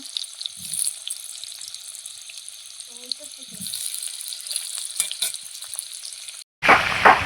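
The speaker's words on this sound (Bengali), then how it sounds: "প্রথমে আলুটাকে ভালো করে ভেজে নেব" Potato pieces frying in oil with a pinch of salt, a faint steady crackle that gives way near the end to a sudden louder sizzle burst.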